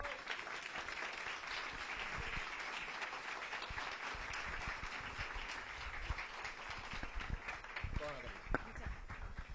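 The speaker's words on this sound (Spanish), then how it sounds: "Un tremendo aplauso." An audience at a talk on sexual education applauds a speaker being introduced, a sustained wash of clapping with scattered sharper claps, moderately distant, with voices in the crowd beneath.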